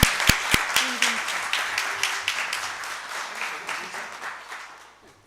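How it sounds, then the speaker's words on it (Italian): Applause for the mayor at a municipal council meeting: a crowd claps densely with a few sharp claps at the start, then a steady patter that gradually fades out. "Applauso al sindaco."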